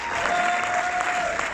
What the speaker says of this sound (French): Est-ce qu'on peut les applaudir comme il se doit,